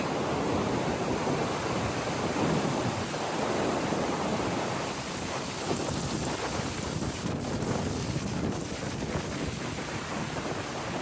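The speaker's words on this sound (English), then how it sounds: "that wind is howling up on this ridge" Strong wind roars steadily across an open microphone on a mountain ridge along the Appalachian Trail, buffeting and rumbling with gusty surges throughout, no voices present.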